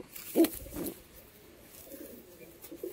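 Breeding pigeons sold in pairs give a soft, faint coo with one short, louder burst near the start, then a low, quieter murmur in a calm room.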